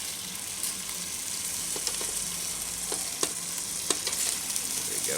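Pork belly chops glazed in barbecue sauce sizzle steadily on a Cobb BBQ, a continuous close frying hiss with scattered pops and crackles throughout.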